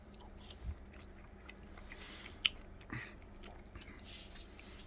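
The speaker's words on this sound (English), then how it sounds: "take a little corner piece here of this, of the point, and see what it tastes like" Someone eats a juicy, tender corner piece of smoked brisket point from a Cookshack smoker, soft close chewing and moist mouth sounds with a few faint clicks, quiet and without talking.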